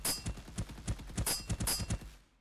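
Rapid bursts of gunfire from a weapon test in an Unreal Engine game with aim assist, a loud rhythmic string of about a dozen sharp shots lasting two seconds with no speech.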